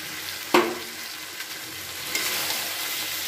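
Fried potatoes and prawns added to a jackfruit masala in a hot pan, starting with a sharp clunk and then a soft, steady sizzle with light stirring scrapes.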